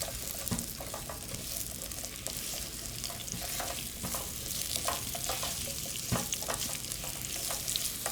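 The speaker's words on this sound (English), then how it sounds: "So we will stir it until it gets like a caramelized color." Long green beans fry in a pan while being stirred, a constant close sizzle broken by frequent scraping and clacking of the utensil against the pan.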